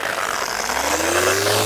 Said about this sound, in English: pull out my sander, and away we go.